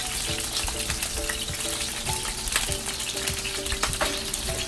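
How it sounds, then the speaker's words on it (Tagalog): Sliced eggplant fries in a pan with a dense, steady sizzle of hot oil. Sharp crackles and pops come through close up, and no one talks. "Prito na natin yung ating eggplant na nahiwa na."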